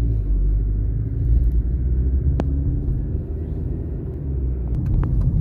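A car drives along a road, heard from inside as a steady, close, low engine and tire rumble that swells slightly now and then, with no talking.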